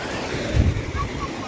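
Fast-rushing flood water pours past in a steady, close broadband roar, with wind buffeting the microphone and a brief louder surge midway.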